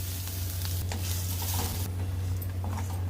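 Grated coconut is sautéed in a kadai with softened shallots, garlic and dried red chillies for ridge gourd skin chutney, a continuous loud sizzle broken by scraping strokes of the stirring spoon.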